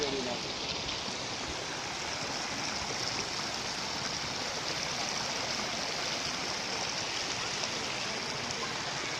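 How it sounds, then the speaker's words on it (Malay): Mountain stream water rushes and splashes in a steady, dense wash, close and continuous, with no voices over it. "Air pegunungan"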